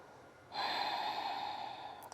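A slow, audible breath during a seated forward yoga stretch, with a long steady exhale through the nose or mouth, close and soft in a quiet room.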